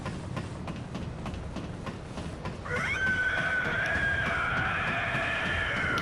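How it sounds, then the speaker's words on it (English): A drawn-out, shrill scream from the Cleric Beast boss in Bloodborne rises over steady low game ambience and holds for a few seconds. "now we're going to climb up, and you're going to hear a scream"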